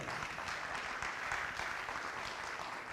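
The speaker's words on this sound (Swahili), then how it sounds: "Tumpigie makofi akija" Sustained clapping from a crowd welcoming the director of a music production house as he arrives at a launch event, dense and steady throughout with no pauses.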